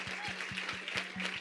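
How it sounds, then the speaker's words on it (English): Audience applause at a startup pitch competition event in New York City, a steady wash of clapping filling the room, with a low rhythmic hum pulsing beneath it throughout. "And I'd love to give them a big round of applause."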